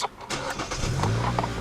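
2011 Hyundai Elantra with a 1.8-liter four-cylinder engine starting: a quick crank catching into a steady idle, close and fairly loud.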